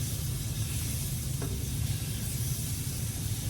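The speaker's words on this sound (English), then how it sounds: "you're just gonna saute these up until they're nice and soft" Sliced bananas with cinnamon sautéing in a pan, a dense, steady sizzle with low bubbling underneath and a brief stir partway through, close and continuous without any talking.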